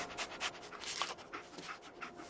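Dog panting and sniffing in Fallout 4, a rapid run of soft breathy huffs and snuffles, fairly close and steady, with no talk over it.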